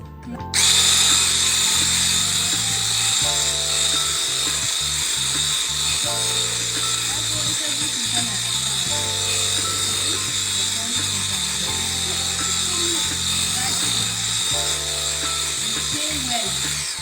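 A Butcher Mix 12-in-1 food processor creams vanilla cupcake batter, a steady close motor whir with a rhythmic churning pulse running continuously beneath faint background voice-like tones.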